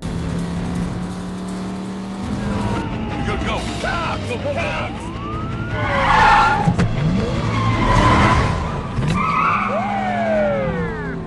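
Car tyres skid and squeal repeatedly during a police chase in an action film, loud engine roars and rising screeches sweeping in bursts, with sirens and dramatic background sound mixed in.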